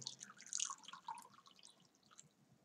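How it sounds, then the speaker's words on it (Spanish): Small drops of water falling one by one beside a burning candle during a salt candle ritual, a soft irregular dripping close by, faint and alone with no talk. "Luego dejaremos caer un poco de agua, así como te muestro acá, sin apagar tu vela."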